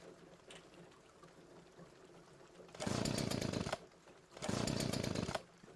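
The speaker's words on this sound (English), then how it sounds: "My chainsaw won't go." A chainsaw in the Junkyard Truck game sputters as it fails to start: two loud, rough motor bursts about a second each, cutting out abruptly, separated by a quiet pause and with no talking.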